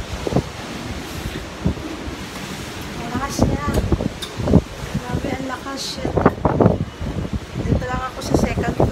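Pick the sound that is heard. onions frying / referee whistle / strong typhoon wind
strong typhoon wind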